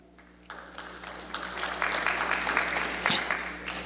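An audience applauds climate leaders, among them city mayors and council members, at a 2018 gathering. The clapping swells from a light start into steady, dense applause that fills the room for several seconds, with no talking.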